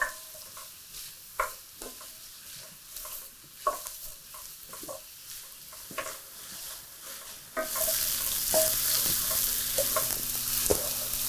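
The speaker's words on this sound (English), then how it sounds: "So we just want these mushrooms to cook down, turn brown." Mushrooms frying in a pan over raised heat give a steady sizzle with occasional stirring clatter, and the sizzle grows noticeably louder and fuller partway through.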